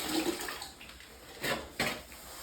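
Water splashing and running while grout is rinsed off ceramic bath tile, a steady wet wash with a couple of sharper splashes near the end, close and without talk.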